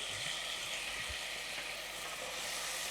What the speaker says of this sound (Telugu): ఒకటే ఒక ఆనియన్ చిన్నది, కొంచెం వేగనిద్దాం.